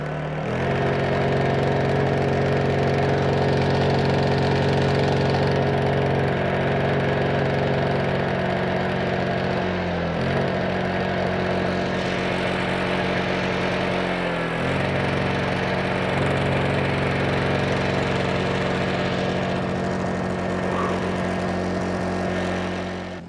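A small Honda EU2000i portable inverter generator, just revived from a no-start condition, runs with a steady, continuous engine hum close by, holding an even idle for the whole stretch with no talking.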